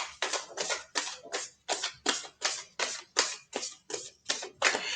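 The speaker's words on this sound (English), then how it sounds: "I'm going to shuffle the cards" Tarot cards shuffled in a steady run of about a dozen crisp, papery riffles, each a short broadband burst with brief gaps, close and clear with no voices.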